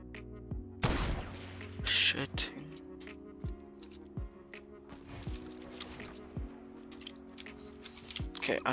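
Distant gunfire from other players in Fortnite cracks out as scattered sharp shots at irregular intervals, fairly faint under a player's voice and game sounds.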